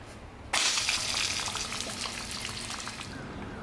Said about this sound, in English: I thought I was on the side of caution when using this blue nozzle, but they really do mean low pressure